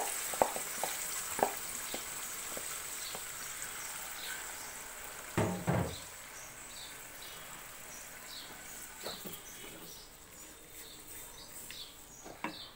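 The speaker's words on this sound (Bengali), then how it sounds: "সিমটা একটু তো এখানে ভুনা হবে।" Beans fry gently in an aluminium kadai, giving a soft, continuous sizzle at low volume, with a few scattered clicks and one brief louder clatter partway through.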